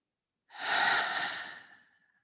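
A single deep breath drawn through a wide-open mouth, rising quickly then trailing off slowly in a soft, close, airy rush during a guided morning relaxation, with no talking.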